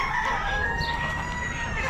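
Silkie chickens cluck and crow among caged poultry at an Amish animal auction, with several birds calling close by over a busy, noisy barn background and faint talk.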